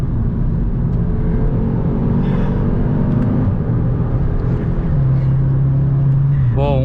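Audi S3 from 2021 fitted with an aftermarket exhaust line, its engine droning steadily as the car accelerates from inside the cabin, with a rising tone near the end.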